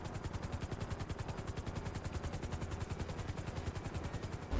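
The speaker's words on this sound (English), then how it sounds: "I'll just pick a helicopter up" A helicopter in the video game GTA Online, its rotor chopping in a fast, even pulse that runs steadily and closely throughout, with no voices.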